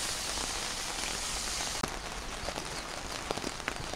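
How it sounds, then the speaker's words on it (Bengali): Steady rain drums on an outdoor cooking area, a dense, even hiss with scattered sharper drops and patters, close and continuous with no voices. "বৃষ্টির মধ্যে কি করার আছে।"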